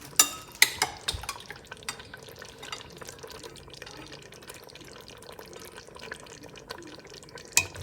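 Soft wet stirring of chicken and vegetables in a pot, with scattered clinks of the utensil against the metal and a low watery churn, faint and close, with no voices.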